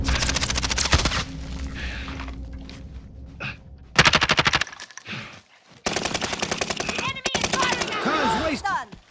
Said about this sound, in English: The enemy is firing at me.